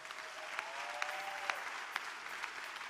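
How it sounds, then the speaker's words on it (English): Fairly faint, steady applause from a welcome gathering at a university, with a few louder claps popping out and a brief tonal sound passing underneath. "a big round of applause for you all"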